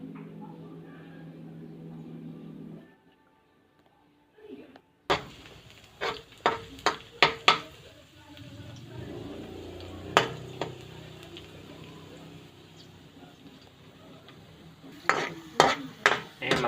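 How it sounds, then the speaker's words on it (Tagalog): Garlic browning in a pan for fish sotanghon soup, a soft sizzle under repeated clinks and scrapes of a utensil stirring against the pan, sharp taps clustered in bursts, close by. "Papapulahin na natin ang bawang."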